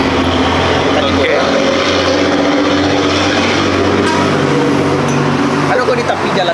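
Road traffic beside a street in Pariaman on the truck route from Padang, a steady loud roar of passing vehicles and heavy trucks, engine drone filling the whole stretch with occasional louder pass-bys.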